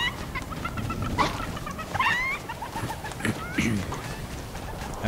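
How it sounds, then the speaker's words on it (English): Chickens clucking in Fortnite, a run of short, bright clucks and squawks scattered over steady game background noise, moderately loud and close. "So many chickens, yeah."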